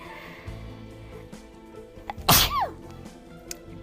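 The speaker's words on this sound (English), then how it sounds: "I'm gonna sneeze." A single loud, sudden human sneeze close to the mic, a sharp burst after a brief quiet intake, with no talk around it.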